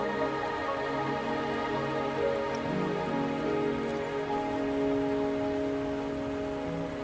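Rain in the Wuthering Waves video game, a steady pattering wash under a sustained tonal hum of game ambience, even and continuous, with no talk.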